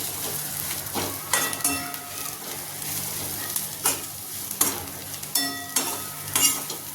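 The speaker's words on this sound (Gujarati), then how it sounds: "હવે આપણે કોથમીરના પાન મૂકી દઈશું અને હલાવી લઈશું" Stirring a leftover-roti snack with coriander leaves in a hot pan: a steady sizzle broken by sharp, close clinks and scrapes of a spoon against the metal every second or so.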